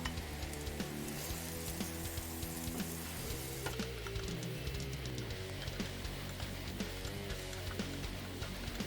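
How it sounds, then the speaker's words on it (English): Onions sizzle softly in a pan while being stirred for a Thanksgiving side dish, a faint, steady frying crackle with light clinks, under background music. "Add in the onions and stir until they are golden."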